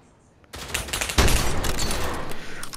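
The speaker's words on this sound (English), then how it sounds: "How are these shots not hitting?" Rapid gunfire from the VR shooter game Pavlov, a dense burst of repeated shots starting abruptly and continuing loud and close throughout, with a heavier blast partway through.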